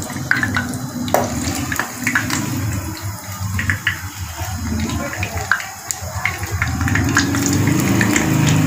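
An egg kabab roll frying in hot oil crackles and bubbles in a steady, close sizzle with scattered pops, growing slightly louder toward the end.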